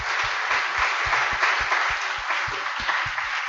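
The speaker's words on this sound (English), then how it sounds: "Please join me in applauding Ingo for his excellent presentation." Audience applause after a conference presentation at SDEWES Rio 2018, a steady dense round of clapping from a seated crowd, even and sustained with some closer individual claps standing out.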